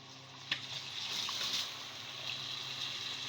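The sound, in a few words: pouring water onto rice and vermicelli in a pot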